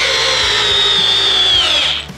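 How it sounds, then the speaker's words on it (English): A Milwaukee cordless drill drives a 5-inch power lag screw, a loud steady whine that sags in pitch as the fastener bites, then cuts out near the end. "With this one, let's go ahead and drive in a 5-inch power lag."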